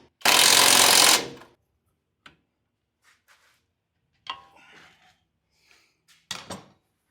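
Nuts being tightened on new struts of a 1978 Ford Bronco: one loud, dense burst of ratcheting impact noise lasting about a second, followed by scattered faint clicks and clanks of tools and metal parts.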